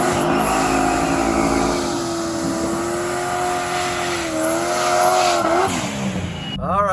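Car racing down a drag strip against a C6 Corvette at night, its engine holding a loud, steady roar with rising pitch sweeps as it accelerates through the gears, ending in a sharp high-pitched whine.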